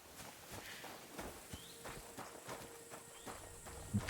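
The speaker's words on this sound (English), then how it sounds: "There's a horse." A horse walks in the video game Kingdom Come: Deliverance II, a steady run of soft hoof clops close by over a rustling outdoor ambience with faint insect chirps, no talk.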